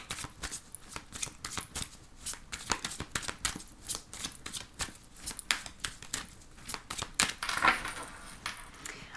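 Tarot cards are shuffled and cut by hand, a rapid run of close, crisp riffling and slapping flutters repeating throughout, with no voice over them.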